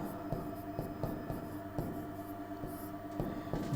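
Chalk or marker strokes on a classroom board during a maths lesson, a steady run of scratchy taps and scrapes with no voice over them.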